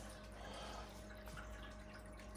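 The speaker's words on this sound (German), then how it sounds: "Dann fängt das Gerät an zu pumpen" An Aqua Medic Refill 2.0 aquarium top-off device pumps water with a faint, steady low hum and soft trickling that continues evenly throughout.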